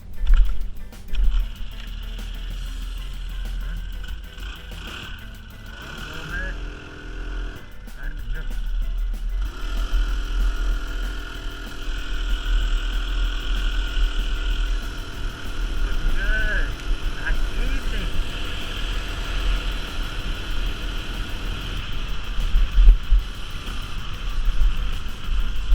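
A small gas engine on a motorized bicycle hums steadily throughout a ride, a constant low drone with shifting revs and passing road noise, and a voice talks over it near the start.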